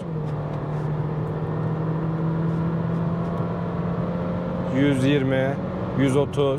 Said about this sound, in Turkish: Dip gaz yaptım. Ağır kalkıyor biraz.